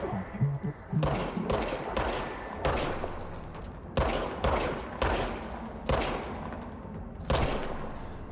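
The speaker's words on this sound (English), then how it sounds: "Fire the gun." Gunfire from the player's gun in the video game Control, a run of loud, close, punchy shots in irregular bursts over a low rumbling background, no voices.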